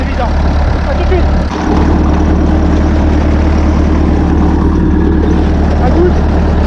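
A Massey Ferguson 865 tractor engine idles steadily up close, a loud continuous low rumble with a brief dip partway through.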